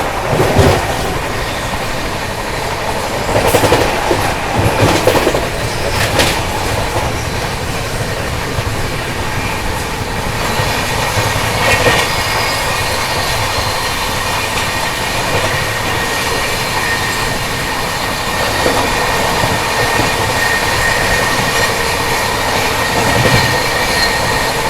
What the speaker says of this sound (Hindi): ये वाला ओवरटेक भी लगभग 130 kmph पे ही होने वाला है।